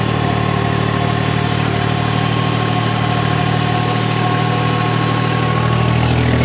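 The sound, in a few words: tractor engine running under load, 50 HP tractor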